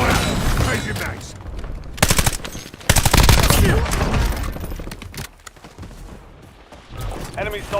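Rapid automatic gunfire from the Warzone video game, in loud repeated bursts with sharp single shots between them. A voice is heard under the shooting.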